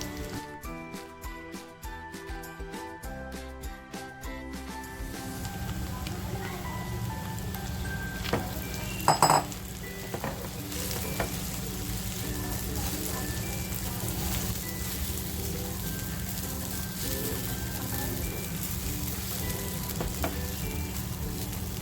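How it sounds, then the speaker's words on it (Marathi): Soaked sabudana tipped into frying potatoes in a pan for sabudana khichdi. After a few seconds of music, a loud, steady sizzle and crackle runs continuously, close by. "आपला बटाटा सुद्धा छान फ्राय झालाय आणि आता जी साबुदाणे घेतले ते मी याच्यात टाकून घेते"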